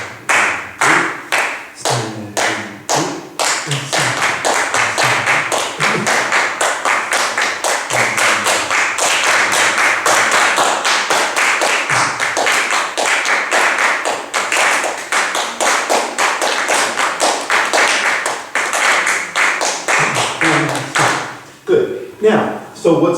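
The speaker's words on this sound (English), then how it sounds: "We'll start with you clapping a steady beat" A group in a church music workshop claps a steady beat and adds body percussion, giving a dense, loud, continuous run of slaps and taps with an even pulse. Spoken directions and voices come through at the start and the end.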